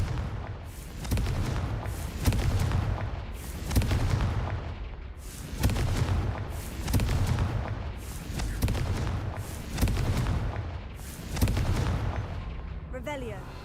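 Repeated booming spell blasts from the Confringo fire curse in Hogwarts Legacy, about six heavy explosions at a steady rhythm of roughly every one and a half to two seconds, loud and close, each rolling into a rumbling decay.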